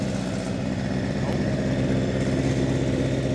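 An old motorcycle, a cheap bike that sat for decades, idles while warming up its oil, a steady close mechanical putter with even low pulsing throughout.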